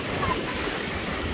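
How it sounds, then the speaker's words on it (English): Ocean surf washes onto the beach at Gulf Shores, Alabama, during rough, riptide conditions, a steady broadband roar of breaking waves with wind noise across the microphone, continuous and fairly close, with no talking. "the waves are still pretty bad"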